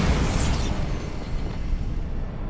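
An explosion from the Bombarda spell in Hogwarts Legacy, a deep rumbling boom with crackling debris that slowly fades over a couple of seconds.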